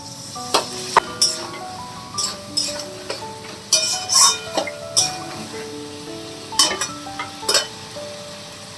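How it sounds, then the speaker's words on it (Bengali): Spices and a little water go into a pan of curry, giving a soft sizzle with scattered clinks and scraping as a spoon stirs and taps the pan, close and moderately loud with no talk. "এই কটা মশলা আমি দিয়ে দিচ্ছি, আর দিচ্ছি একটুখানি জল"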